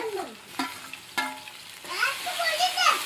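Tomatoes going into a pan of frying onions and green chillies: soft sizzling with stirring and scraping clatter in a home kitchen, while a child and an adult talk nearby.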